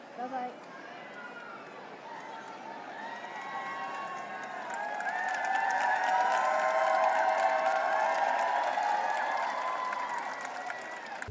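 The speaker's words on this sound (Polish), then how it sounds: "Ludzie biją brawa, krzyczą." A large crowd applauds and calls out at Queen Elizabeth II's funeral, a steady wash of clapping and voices that swells in the second half and stays loud and continuous throughout.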